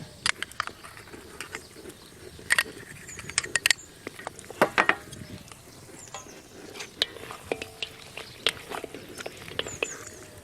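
A dish of tomato sauce enriched with ground almonds cooks in a pan, with soft sizzling and frequent scraping, stirring clacks of a utensil against the pan, fairly close and without talk.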